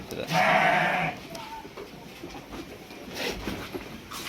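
Young goats or lambs bleating in a shed, one loud close bleat near the start followed by fainter calls and some quiet background movement.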